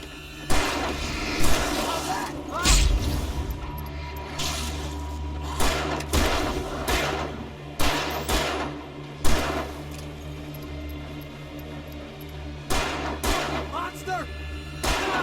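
Gunshots in Alan Wake Remastered, sharp bangs scattered irregularly through a busy game soundscape, heard under excited talk.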